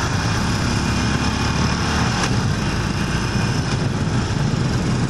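Big-displacement Harley-Davidson motorcycle engine running continuously up close, a loud steady drone with a couple of brief revs during a rev-matched downshift.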